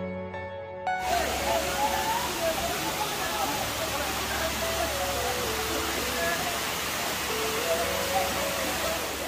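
Continuous broadband rushing water roars steadily throughout from the nearby Shuvolong waterfall in Rangamati, with no clear talking over it.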